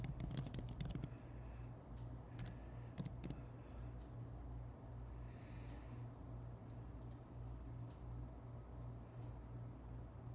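Sparse keystrokes on a computer keyboard, a quick flurry of clicks at first, then scattered single taps over a steady low hum, fairly faint and with no talking.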